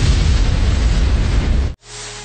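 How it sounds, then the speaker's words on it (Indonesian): A magic explosion in an anime battle bursts as a loud, sustained roaring blast of broadband noise, cutting off abruptly near the end before a quieter low rumble returns. "Markus mengaktifkan darahnya yang menempel di sekujur tubuh Pelto, menjadikan ledakan sihir hingga membuat Pelto tak berdaya"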